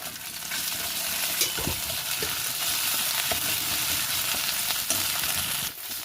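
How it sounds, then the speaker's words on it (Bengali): Ginger paste and cumin seeds frying in a pan for a fish-head mung dal, a loud, continuous close sizzle with occasional stirring scrapes and crackles, no voices. "আদা এবং জিরাটা খুব সুন্দর মতো ভাজা হয়ে গেছে।"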